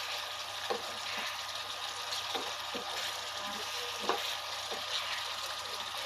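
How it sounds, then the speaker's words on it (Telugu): Fried eggs and fried fish stirred into a simmering tamarind-leaf curry in a pan, with a steady sizzle throughout and soft, irregular scraping and stirring knocks at close range. "అలాగే వేయించి పక్కన పెట్టుకున్న మెత్తళ్ళు కూడా వేసేసి కలుపుకోవాలండి."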